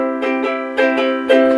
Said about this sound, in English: And then the ukulele felt pick